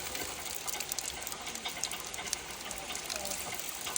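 Water runs steadily from a newly built tap in a village, a continuous broadband gush and splash that stays fairly even for the whole stretch, close and moderately loud with no talk over it.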